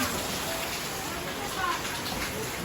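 Steady, hissing rain pours down without a break, a dense wash of noise that masks everything else.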